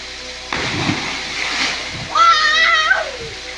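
A person leaps into the pool below Moolakona waterfall near Puttur, hitting the water with a sudden close splash followed by sloshing, while young voices shout and talk around it.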